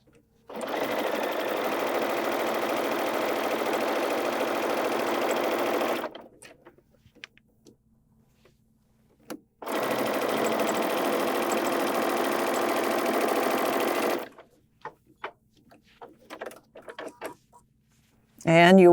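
A sewing machine runs in two long steady bursts of several seconds each, stitching a quilt seam, with a quiet pause between them and brief handling noises afterward.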